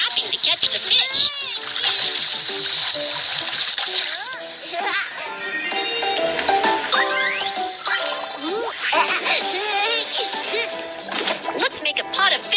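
A mobile fishing game's reel-in sequence, with watery splashes and splatters mixed among bright chimes, dings and playful music, steady and loud throughout, while a voice chatters over it.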